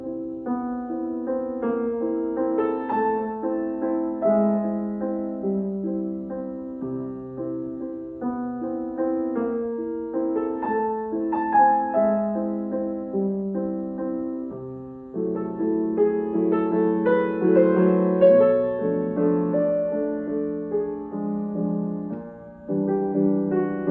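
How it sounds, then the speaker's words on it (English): Solo piano plays Grieg's Notturno, Op. 54 No. 4, a lyric piece, with soft sustained chords and a gently moving melody that swells in the second half, close and unaccompanied. "Today we're talking about how to teach the Notturno or Nocturne by Edvard Grieg."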